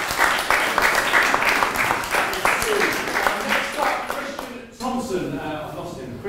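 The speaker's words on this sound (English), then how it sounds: "we don't charge for applause" An audience at a live health event applauds in a dense, sustained wash of clapping that thins slightly toward the end, with a voice talking over it.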